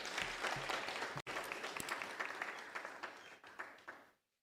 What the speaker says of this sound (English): Let's give Ms. Henry another round of applause.